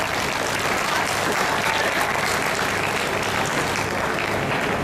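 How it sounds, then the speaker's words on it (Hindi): Sustained, dense applause from the audience at a Hindi comic poetry reading, a steady wash of many hands clapping together at close range with no speech over it. "तुमको अपने अच्छे स्वास्थ्य के लिए तालियां बजानी है।"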